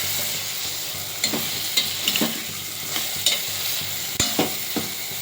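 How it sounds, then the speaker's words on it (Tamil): Cut sweet potato sautés in a pan, a constant loud sizzle with occasional sharp scrapes and taps from stirring, close and uninterrupted by speech. "கட் பண்ணி வச்சுருக்கோம், அதை போட்டுடலாம். ஓகே, இதையும் நல்லா வதக்கிடலாம்."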